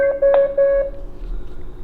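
A security alarm keypad gives a quick series of about five short, clear electronic beeps, loud and close, then falls quiet apart from low background noise.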